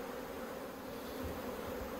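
Honey bees buzz around an open hive in an Australian beekeeping yard, a steady, dense hum that stays close and even throughout with no voices.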